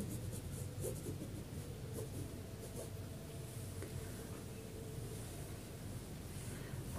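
Chalk or marker drawing a marking line across fabric to guide stitching of a gala placket, a soft continuous rubbing with a few faint scratchy strokes against a steady background hiss, no voices.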